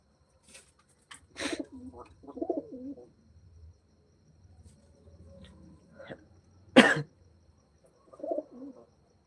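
Pigeons, three birds in all, give low, throaty coos at close range in short scattered bursts, with a few sharper sounds between them and quiet gaps.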